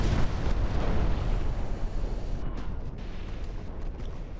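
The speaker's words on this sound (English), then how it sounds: "Exploding away." Ships exploding during a naval battle in a strategy video game, a dense, roaring wash of blasts and rumble that fades slightly toward the end.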